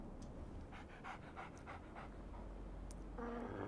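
A dog in the video game Fallout 3 pants in quick, steady rhythmic breaths, close but soft, with a faint ambient hum rising near the end.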